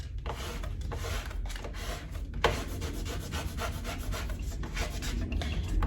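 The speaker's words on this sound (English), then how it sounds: "So you burnish the back of your design like so." Steady scraping and rubbing of a tool burnishing the back of a Cricut craft transfer design, heard close and alone, with a continuous rasping texture and one brief sharper scrape partway through.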